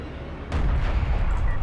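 Missile strike in the real-time strategy game Homeworld: Deserts of Kharak: a sudden loud, booming impact that breaks in over a low background rumble and then rolls on as a sustained heavy roar.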